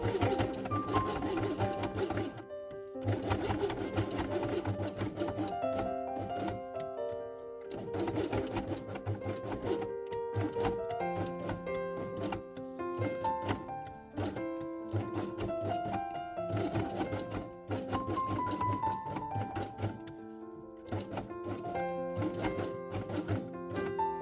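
A sewing machine stitches fabric quiet book pieces along their edges, running in quiet rapid bursts of mechanical clatter separated by short pauses, close and steady with no talking.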